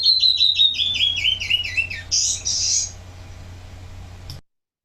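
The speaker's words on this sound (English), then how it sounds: "here is the song sparrow for you to look at" A song sparrow sings a single clear phrase: a run of bright descending notes followed by a buzzy trill, close and alone over a faint low hum, then silence.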